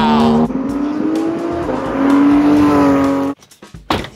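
A supercar engine revs loudly and steadily climbs in pitch, with automatic downshifts audible as stepped changes in tone, before the engine cuts abruptly to quieter intermittent sounds.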